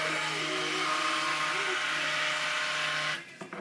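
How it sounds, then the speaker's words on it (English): A stick blender whirs steadily while mixing soap oils and lye water for sandalwood cold process soap, a close, continuous motor hum with slight pitch wobbles that cuts off near the end. "Give it a quick blend."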